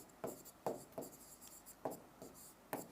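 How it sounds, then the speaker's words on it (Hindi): Pen or chalk strokes during a Hindi grammar lesson come in quick, separate scratchy bursts, about seven short marks spaced irregularly, close and fairly quiet, with no talk over them. "अब कृष्ण की जगह आप राधा लिख दो"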